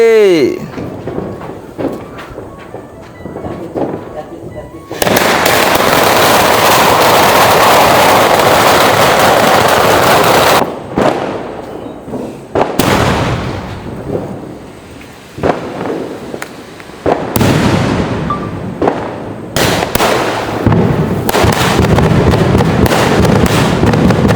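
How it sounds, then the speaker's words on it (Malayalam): Loud firecrackers bursting for Vishu in sharp repeated blasts, with crackling bursts and long noisy stretches, mixed with people talking and shouting nearby. "നമ്മൾ വിഷുക്കണിയൊക്കെ കണ്ട് പടക്കം പൊട്ടിക്കാൻ പോവാം"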